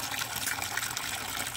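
Water rushes out of a garden hose on a rural property, a steady close gushing hiss that holds through the whole moment without a break.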